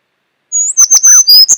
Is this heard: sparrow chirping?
yes